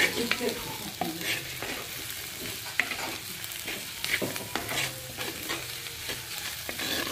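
Seema chintakaya (Manila tamarind) curry frying in a pan on a low flame, with a steady soft sizzle and repeated scraping and stirring clicks of a spoon against the pan.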